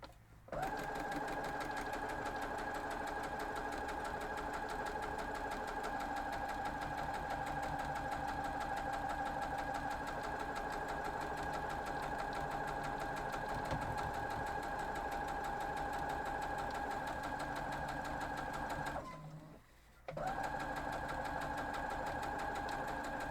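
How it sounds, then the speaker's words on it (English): A sewing machine stitches quarter-square triangle pieces for a quilt, running as a steady, close mechanical hum for nearly twenty seconds, then pausing briefly before starting again, with no talking. "Just sewing right down through."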